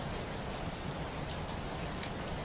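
Steady, dense rain patters against the windowsill of a Victorian tearoom in Scotland, a close, even wash of drops that never lets up.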